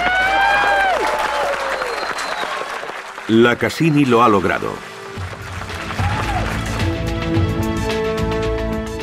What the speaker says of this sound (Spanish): se rompió el silencio y todo el mundo se puso a gritar y a aplaudir